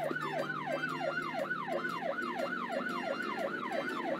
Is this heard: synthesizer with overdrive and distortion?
no